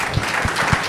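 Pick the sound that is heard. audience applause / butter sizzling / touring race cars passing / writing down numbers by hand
audience applause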